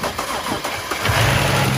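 A BMW 335i engine with newly wired-up electrics is being started. The starter churns for about a second, then the engine catches and settles into a loud, steady run close to the microphone.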